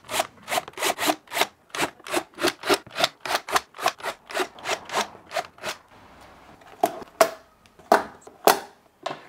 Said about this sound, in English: I'm just going to use a countersink to take the burrs off it.